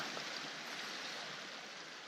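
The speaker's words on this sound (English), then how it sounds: "Little water crossing here." A stream runs across a backpacking trail at a water crossing on the North Fork National Recreation Trail in California, a steady, even rush of flowing water, soft and continuous with no other sounds.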